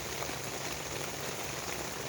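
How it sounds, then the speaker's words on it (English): Rain falling on a tent at a survival camp in a tropical storm, a dense, even patter of drops that holds steady throughout with no voices. "Now we're starting to get some more water again, or some more rain"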